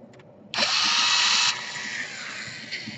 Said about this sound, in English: And now we unscrew everything that we see here.